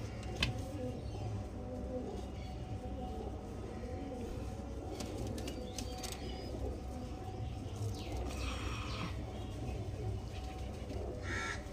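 Tournament pigeons kept for sale coo softly and intermittently in a cage, faint and low against quiet background noise.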